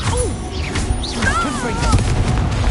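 Bombarda blasting spell going off in Hogwarts Legacy, a dense booming crash with rising whooshes and swirling magical tones layered over busy combat noise.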